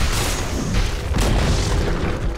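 Deep rumbling boom of a tower collapsing in Dota 2, a dense low crash lasting the full two seconds with a brief sharper burst in the middle, no talking.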